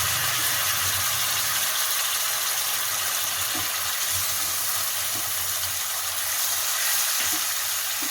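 Tomato and cashew paste frying in a pan over high flame, a steady loud sizzle throughout with occasional soft scrapes and clinks of stirring.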